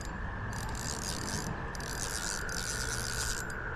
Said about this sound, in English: I need to loosen my drag more.